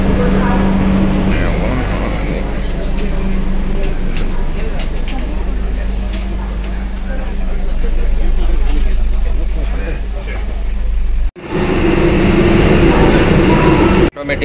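Tejas Express train in motion, a steady loud rumble of the moving carriage with a brief sharp break near the end, and a voice talking over it.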